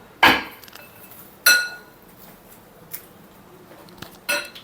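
Lemon rice being stirred with lemon juice and salt in a metal vessel using a ladle, giving a few sharp, close clinks and scrapes at irregular intervals with quiet pauses between.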